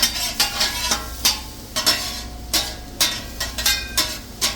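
Shrimp frying in a pan with a pinch of seasoning, heard as a steady sizzle broken by repeated sharp stirring scrapes in an uneven rhythm, close and fairly loud.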